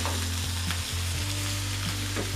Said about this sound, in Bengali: আবার নেড়ে চেড়ে আলু এবং গাজরের সাথে ফুলকপিটাকে মিলিয়ে নিচ্ছি।